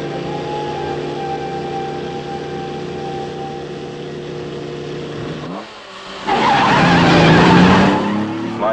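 Car driven fast in the 1965 film Thunderball: a steady engine roar, then a brief dip before loud squealing tires and a surging engine take over, with music beneath.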